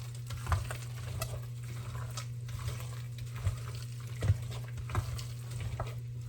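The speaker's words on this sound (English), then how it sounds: "I'm just gonna mix this real well." A spoon stirs a mustard potato salad with chopped eggs through it, giving close, wet squelching and scraping sounds in an uneven rhythm, with a few sharper clicks against the bowl.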